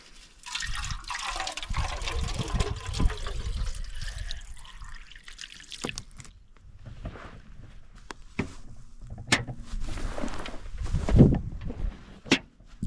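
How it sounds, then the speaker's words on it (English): Water splashing and gurgling as it is poured into cans outdoors, a steady pour over the first several seconds, then scattered drips and sloshes. "I've got some cans right there we can just fill with a little bit of water."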